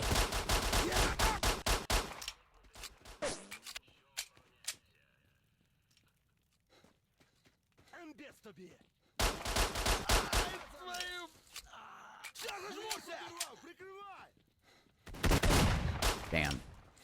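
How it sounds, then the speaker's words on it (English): Close-range shotgun blasts in the video game Stalker burst out in dense, loud volleys, with quieter gaps between them holding groans and scattered game noises. "There's 2 shotgun blasts at close range"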